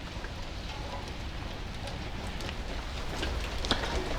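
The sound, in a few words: gentle drizzle rain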